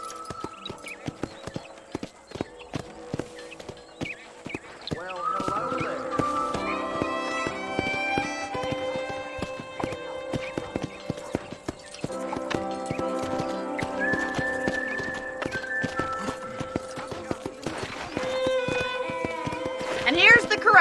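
Horses at a ranch corral in Red Dead Redemption make steady hoof clip-clops with an occasional whinny, while people talk throughout over the ambient ranch noise.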